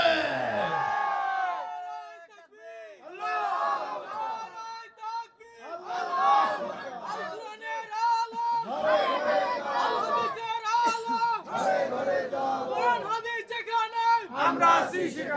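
At a Bangla Islamic sermon, a large audience shouts a loud response together in repeated bursts of chant-like cries that rise and fall in rough waves.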